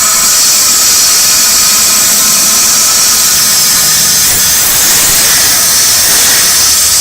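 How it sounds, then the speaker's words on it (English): A loud, steady hiss of compressed air blasting into a hole in a Nissan Navara gearbox, continuous and close with slight shifts in tone as the jet moves. "You just try and change the air jet direction, it'll blow out from different parts of the gearbox."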